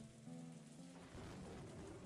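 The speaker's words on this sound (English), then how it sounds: "Thunder rings in the distance. The rain continues pouring down hard." Heavy rain pours down steadily in a visual novel scene, with a low rumble of distant thunder rolling under the dense hiss, heard quietly and without voices.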